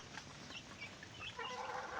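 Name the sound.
chickens and roosters on a farm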